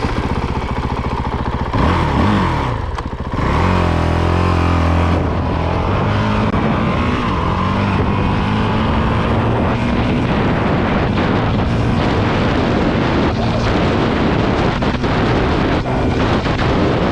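Honda CRF450RL motorcycle passing close by, its engine rising in pitch then sweeping past, followed by sustained loud revving and rough engine noise with wind buffeting.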